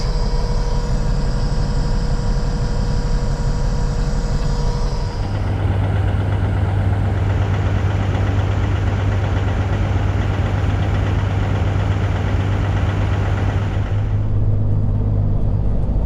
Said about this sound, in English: Truck fires right up because I have the engine heater going on